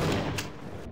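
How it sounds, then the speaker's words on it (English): An explosive goes off in the video game Half-Life: Source, a loud, dense burst of rumbling blast noise filling the moment. "He throws an explosive in there."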